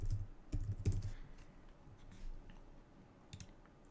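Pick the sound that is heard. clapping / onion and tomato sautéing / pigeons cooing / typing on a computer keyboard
typing on a computer keyboard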